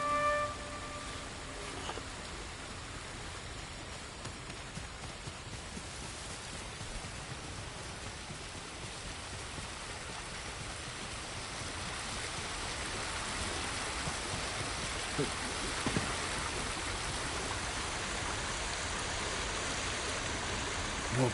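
Waterfall ambience: a steady, rushing roar of falling water that continues for about twenty seconds and swells slightly in the second half, with no voices.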